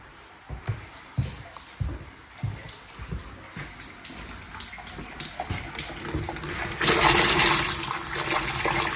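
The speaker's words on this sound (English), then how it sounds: "it's flowing pretty well, but there still seem to be some air in the line" Water runs through household plumbing in a master bathroom, sputtering and spitting irregularly from air trapped in the line, then surging into a louder steady rush near the end.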